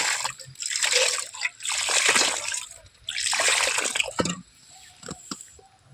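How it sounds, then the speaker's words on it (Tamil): Water poured from a vessel onto the soil around a newly planted drumstick tree, splashing and trickling in several long bursts with short pauses between them. "அடுத்தது தண்ணீர் வைத்து ஊற்றிக்கலாம் நண்பர்களே"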